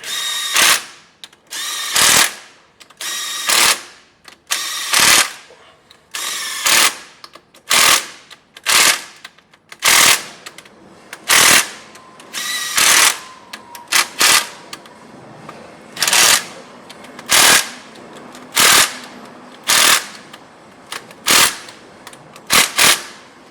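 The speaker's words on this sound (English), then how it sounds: "I'll just move to the bigger rattle gun just to get the final tightening on them." A pneumatic impact wrench fires about eighteen loud, sharp rattling bursts, each roughly a second long with brief gaps between, tightening bolts in a crisscross pattern during a part-time 4WD kit install on a Toyota 80/100 Series.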